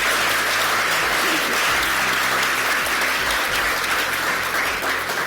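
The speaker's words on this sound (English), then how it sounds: "So let's give a big applause for them." A large audience at an Asia Society event in the United States breaks into loud, continuous applause that holds at full strength for several seconds, with faint voices underneath.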